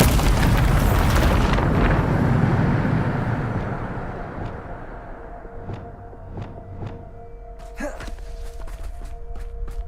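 A Bombarda spell explosion in the Hogwarts Legacy video game: a heavy, roaring boom that rumbles and fades over several seconds, followed by quieter footsteps, sharp clicks and a sustained tone.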